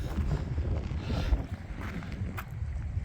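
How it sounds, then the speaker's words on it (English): Steady wind buffeting the microphone at the shore during a fishing outing at Sandy Point, a rough low rumble that continues throughout with no voices. "so the wind is right in our backs"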